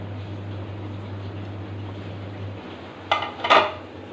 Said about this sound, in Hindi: इन्हें अच्छे से मिक्स कर लेते हैं।